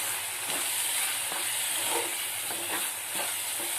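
Ginger garlic paste sautés in a pan for prawn gravy, giving a continuous loud sizzle with scraping stirs and small spatters, and no voices.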